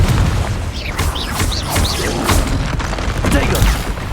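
The Confringo fire spell in Hogwarts Legacy fires off in a rapid string of booming blasts and thuds during a battle. The loud, dense impacts repeat several times a second and a voice can be heard in the mix.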